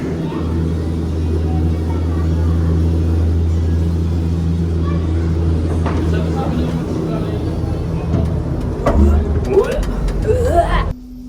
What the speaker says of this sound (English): we are back in the cable car, as you can probably hear and see